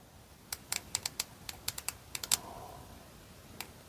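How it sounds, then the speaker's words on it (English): Keypad buttons on a Radtel RT4D DMR handheld radio click under a fingertip, about a dozen sharp close presses in quick irregular bursts with brief pauses, then a final lone press. "To lock the keyboard, just long press this button."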